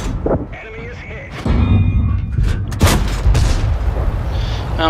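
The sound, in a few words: tank gun firing in the video game World of Tanks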